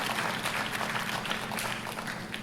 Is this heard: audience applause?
yes